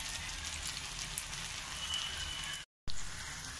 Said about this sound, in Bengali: এভাবে আমি ডিপ ফ্রাই করে সব বড়াগুলো গোল্ডেন ব্রাউন করে ভেজে নিচ্ছি।